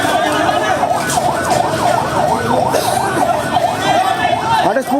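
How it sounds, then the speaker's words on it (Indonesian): Ambulance sirens wail continuously at a train crash scene in Bekasi Timur, their sweeping tones loud and overlapping, with people talking underneath. "Banyak ambulan belakang."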